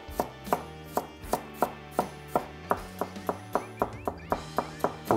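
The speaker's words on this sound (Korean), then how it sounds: "오이를 가지런히 놓고 채 썰어 주세요." Cucumber laid in a row and julienned with a knife on a cutting board, a close, steady series of about seventeen crisp, evenly spaced chops.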